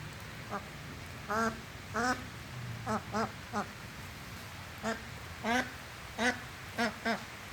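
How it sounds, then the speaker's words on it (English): Ducks quack in scattered bursts of two or three calls, fairly close but not loud, over a quiet outdoor background. "We have 2 ducks here."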